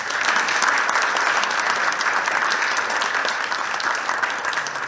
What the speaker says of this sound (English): If you can join me in a round of applause for Vitalik.